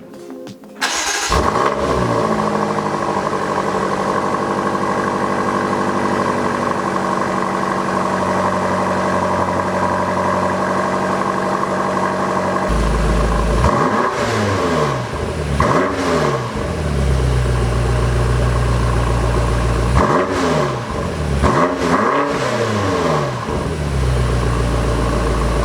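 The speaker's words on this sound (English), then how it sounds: "let's do a cold startup of the M5 Competition" A 2019 BMW M5 Competition cold starts with a sharp bark, then settles into a loud, steady idle before several quick throttle blips rise and fall near the car.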